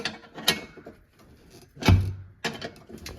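Metallic clanks and ratcheting rattles from loosening and removing nuts and bolts on a vehicle with monster tyres and a fibre hood, in three bursts, the loudest mid-clip, close by with no talk.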